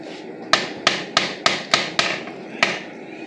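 A lid goes onto a large pot of Dindigul mutton biryani to seal it for dum cooking, giving seven sharp, knocking impacts at an uneven pace, close and fairly loud over low kitchen background noise.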